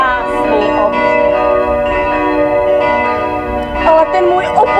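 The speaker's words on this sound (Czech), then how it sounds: "stejně jako slábne zvuk zvonů" Church bells ring after a wedding ceremony in a staged improvised Shakespearean tragedy, a dense sustained peal with overlapping tones, loud and continuous throughout.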